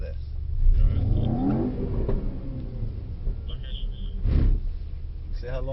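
A Mercedes-AMG GT63S engine on a track rises and falls in revs with a deep rumbling roar, loudest near the start and again later, with a voice talking over it.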